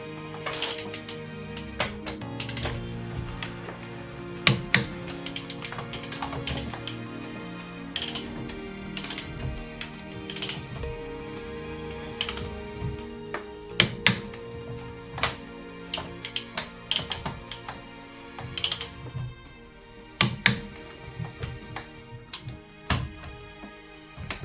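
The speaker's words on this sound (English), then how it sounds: "135 Newton meters should be the setting for the torque wrench." A torque wrench ratchets while rear brake bolts on a Ford Focus Mk1 Turnier are tightened to 135 newton metres, giving repeated sharp metallic clicks and pawl ticks in irregular bursts over a quiet workshop background.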